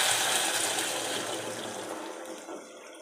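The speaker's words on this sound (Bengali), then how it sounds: "গরম জলটা দিয়ে দেবো।" Hot water is poured into a pot of dal cooking on the stove, making a steady, close, bright splashing rush that gradually softens and thins toward the end, with no voices.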